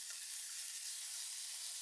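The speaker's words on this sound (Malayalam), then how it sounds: "നമുക്ക് ഇനി ഇത് വറുത്ത് ഇടാനുള്ളതാണ്. അതായത് നമുക്ക് കടുകും പിന്നെ കരിവേപ്പിലയും വറ്റൽമുളകും" Mustard seeds, curry leaves and dried red chillies frying in coconut oil make a steady, bright hissing sizzle, even and unbroken throughout.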